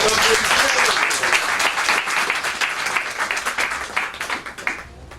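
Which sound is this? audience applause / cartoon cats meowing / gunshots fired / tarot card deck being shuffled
audience applause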